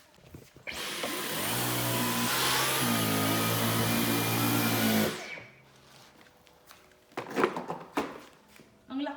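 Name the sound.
Dyson V15 cordless vacuum cleaner running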